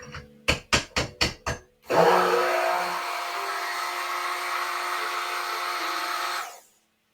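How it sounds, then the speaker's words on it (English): Five sharp knocks, then an immersion blender whirs steadily for several seconds mixing soap before stopping, close and fairly loud. "So to save time, we use an immersion blender."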